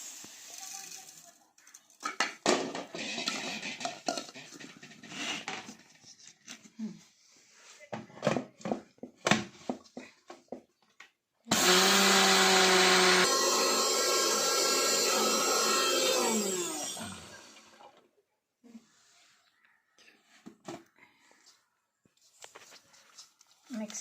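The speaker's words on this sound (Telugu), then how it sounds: "పౌడర్ చేసి ఇందులో చక్కెర కలిపి గర్జలు చేయాలన్నట్టు మిక్సీకి వేస్తా" A kitchen mixer grinder whirs loudly, powdering roasted peanuts and sesame seeds in one sustained burst of about five seconds, with someone talking before and after it and clattering handling sounds around it.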